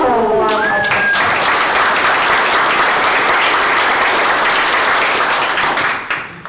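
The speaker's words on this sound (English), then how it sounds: "let's give her a warm applause." Steady, dense applause from a sizeable crowd fills the room for several seconds before tapering off at the end.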